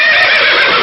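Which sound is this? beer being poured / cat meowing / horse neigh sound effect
horse neigh sound effect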